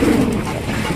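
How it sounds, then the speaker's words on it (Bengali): Lahori pigeons at a pigeon market give a low, throaty coo, close and fairly loud, with a soft rolling tone through a single brief call. "একদম বিগ সাইজের মধ্যে লাহোরি কবুতর পাইতেছেন"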